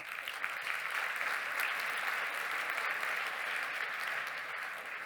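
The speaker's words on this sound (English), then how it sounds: "give my panellists a very warm round of applause" Applause for panellists at an agriculture forum on nature-based solutions: an even, continuous wash of many hands clapping, heard from some distance at moderate level, holding steady throughout.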